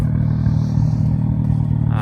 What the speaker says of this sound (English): The exhaust note is gorgeous. She purrs.